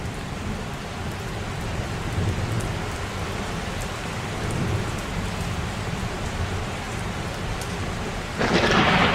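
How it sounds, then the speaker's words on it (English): A thunderstorm pours down as steady, dense rain drumming on surfaces, with low thunder rumbling beneath it and a louder burst near the end, no voices. "apparently we're going to have a thunderstorm."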